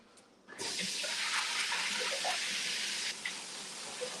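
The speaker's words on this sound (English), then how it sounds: "I'm gonna rinse these off." A kitchen tap runs into the sink as food is rinsed, a steady close gush of water that starts abruptly and continues with small splashes.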